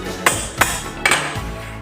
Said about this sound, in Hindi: इसी तरीके से ये वाला बुश निकलेगा ऊपर से ठोकने पे